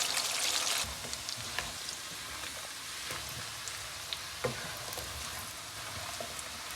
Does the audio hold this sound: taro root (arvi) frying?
yes